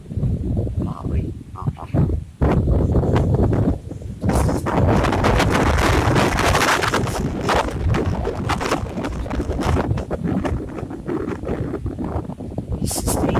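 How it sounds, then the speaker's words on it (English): Strong gusts from tropical storm Michael batter the microphone in loud, rough bursts of roaring buffeting that rise and fall almost without pause. "this wind that's picking up now"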